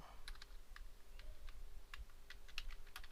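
Light, quick keystrokes on a computer keyboard tap out a short burst of clicks in an irregular rhythm, close and fairly quiet over a faint background hum.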